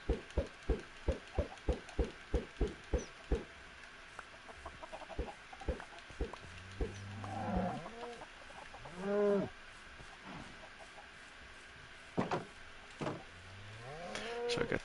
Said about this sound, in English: So I got the chickens, I got the cows.